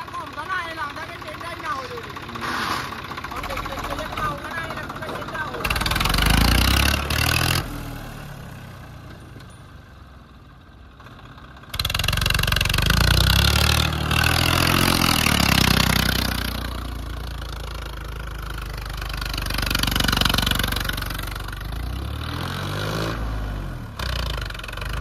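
A tractor nicknamed Dinosaur, set to be fitted with wide tyres, revs its engine in repeated loud surges between lower idling stretches, while people talk over it.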